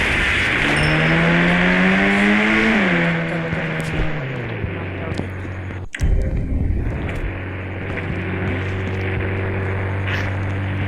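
A police car's engine revs and rumbles up close, its pitch climbing and falling over several seconds before settling into a steady idle, with a sharp bang midway and no speech over it.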